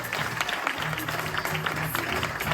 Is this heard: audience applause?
yes